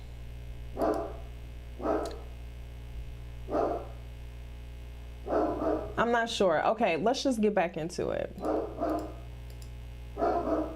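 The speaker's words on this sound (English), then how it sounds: "That's my dog back there acting up." A dog barks repeatedly in another room, one bark at a time, while someone talks in the middle stretch; the barks come back once he finishes, all over a low steady hum.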